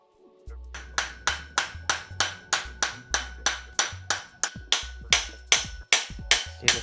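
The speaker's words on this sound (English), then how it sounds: "we're gonna try to hammer out the cam again" Steady hammer blows drive the intake camshaft out of a Toyota 2ZZ engine head from an MR-S, about sixteen sharp metallic strikes in an even rhythm, close and loud, with no talk.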